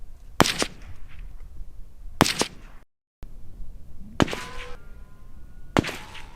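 Four sharp, loud gunshot reports from a 300 Blackout rifle with a 9-inch PWS barrel firing 125 grain Winchester ammunition, spaced a second or two apart, each with a short ringing tail, no talk.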